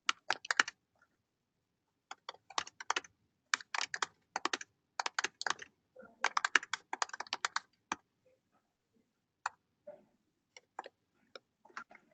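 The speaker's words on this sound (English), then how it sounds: "And we're typing in questions?" Typing on a computer keyboard during a classroom session, bursts of rapid close key clicks separated by short pauses, sparser taps toward the end.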